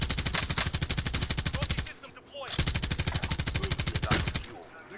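Rapid automatic gunfire in a shooter video game, a steady fast burst of shots close up, breaking off briefly and then resuming.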